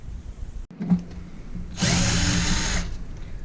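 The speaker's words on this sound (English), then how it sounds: "And then we remove all this screw, 1 2 3 4 5 6 7 8 9 screws." A power screwdriver whirs for about a second, backing a screw out of an LCD panel assembly, preceded by a few small clicks and handling sounds up close.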